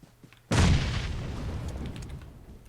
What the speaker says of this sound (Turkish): Size bomba geliyor.